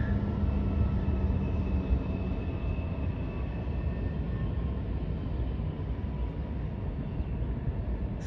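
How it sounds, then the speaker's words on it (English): CSX freight train rolling past at Hawk's Nest in West Virginia, a steady low rumble of wagons on the rails at moderate distance, continuous and even throughout with no talking. "CSX train."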